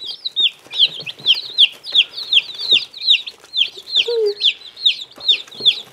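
Hungry chicks, including Egyptian and Brahma chicks delivered by mail, being fed: a close, steady run of high, rapid peeping calls repeating every fraction of a second, with soft pecking and rustling beneath.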